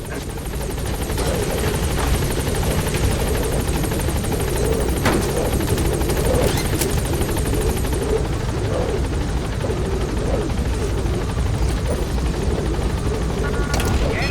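A helicopter on Mother Base in the video game Metal Gear Solid V thrums loudly and continuously up close, its rotor beat steady throughout with occasional faint mechanical clicks.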